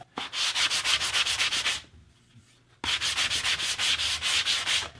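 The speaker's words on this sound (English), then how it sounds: "just a little sand over with the sanding block" Rhythmic back-and-forth scratching of a sanding block over a pool table rail where old cushion glue was scraped off, two bursts of quick strokes separated by a short pause.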